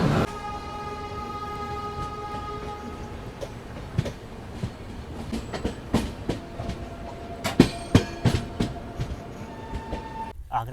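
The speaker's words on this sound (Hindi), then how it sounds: "सुबह 8:19 में हम लोग आगरा कैंट रेलवे स्टेशन से निकल रहे हैं" The Bilaspur Rajdhani Express runs steadily just after leaving Agra Cantt station, heard from inside a coach as a continuous rumble with rhythmic clickety-clack wheel beats that grow sharper toward the end.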